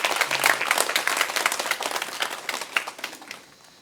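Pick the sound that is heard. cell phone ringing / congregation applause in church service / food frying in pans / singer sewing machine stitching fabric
congregation applause in church service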